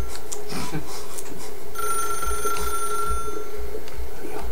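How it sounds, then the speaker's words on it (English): Telephone ringing in the video game The Stanley Parable, a ringtone-like electronic ring repeating steadily over a busy game background, no voices. "It's literally the ringer to my phone."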